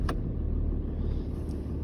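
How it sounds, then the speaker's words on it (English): A Ram truck with a 6.7L Cummins diesel engine idles steadily after starting, a loud, constant low rumble with a faint brief click near the start. "start the vehicle"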